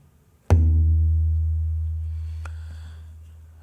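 The larger metal tabla drum is struck once and gives a deep, booming bass tone that swells and sustains for several seconds, with a faint light tap partway through.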